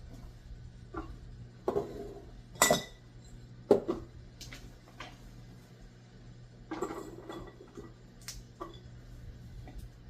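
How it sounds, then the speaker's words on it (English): Gold Mine string beans dropped into glass canning jars in a kitchen, giving scattered light clinks and taps against the glass with quiet gaps between, over a faint steady hum. "I'll just put some beans into these jars right here"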